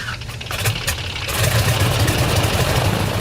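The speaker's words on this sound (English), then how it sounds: "I love the sound of the engine." A small airplane's engine runs steadily with a continuous low droning rumble and broadband roar, loud and close, growing slightly fuller partway through, with no talking.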